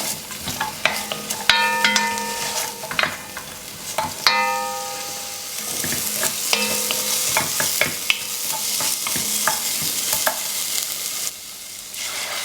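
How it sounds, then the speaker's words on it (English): Diced onion and carrot brown in a Dutch oven for a French steak stew, sizzling steadily under repeated scraping and stirring strokes and light clinks of the utensil against the pot. "Add a diced onion and carrot to the Dutch oven and brown."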